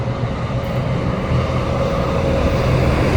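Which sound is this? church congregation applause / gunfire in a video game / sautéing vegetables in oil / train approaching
train approaching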